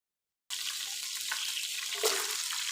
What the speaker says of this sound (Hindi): अब बचे हुए ऑयल में जो प्याज मैंने काट के रखे थे मैं वो ऐड कर दूँगी और उसको हल्का सा फ्राई कर लेना है